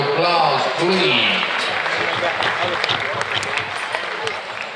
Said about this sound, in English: if you would have them off with a round of applause, please